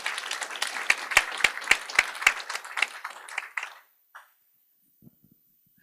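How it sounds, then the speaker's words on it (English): Audience applause at a university robotics and medicine lecture honoring the event sponsors: a burst of hand clapping with a few sharp near claps, tapering off and stopping after about four seconds, then near silence. "Please give a round of applause for the sponsors."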